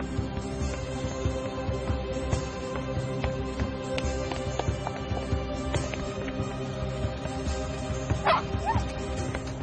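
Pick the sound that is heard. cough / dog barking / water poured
dog barking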